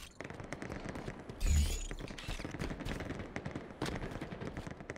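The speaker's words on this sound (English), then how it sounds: "Being shot in two directions." Automatic weapon fire in the multiplayer shooter Halo Infinite, dense rattling bursts with a loud blast partway through and another burst near the end, under a player's talk.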